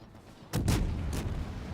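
Enemy warship guns fire at the player's ship in a naval combat video game, with a couple of broad, heavy booms arriving close together and then a further blast over a continuous rumbling backdrop.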